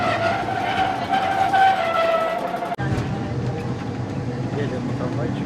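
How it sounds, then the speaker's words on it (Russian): Rumbling, rattling motion of a very old tram rolling along rails in Porto, with a screeching wheel tone early on and a voice talking over the noise. "Едем на трамвайчике."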